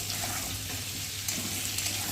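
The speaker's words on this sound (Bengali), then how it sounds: "একটু ভালো করে নাড়াচাড়া করে" Pointed gourd (potol) frying in a pan with a little salt while being stirred: a steady, continuous sizzle with soft scraping, fairly close and unbroken, no voices.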